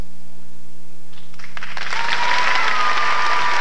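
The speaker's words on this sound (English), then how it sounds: "let's everybody be quiet right now and you'll hear them give you a round of applause" Audience applause at a 1980 polka concert in a temple hall, a burst of clapping that starts after a quiet moment and swells into a loud, dense round.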